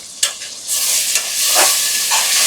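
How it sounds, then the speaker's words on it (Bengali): Onions fry in hot oil in a pan for a coconut duck meat bhuna, giving a steady close sizzle with brief stirring scrapes throughout and no talking. "পেঁয়াজগুলো আমি এরকম করে ভাজবো যাতে বেরেস্তাও না হয়ে যায়, আবার যেন সাদাও না থাকে।"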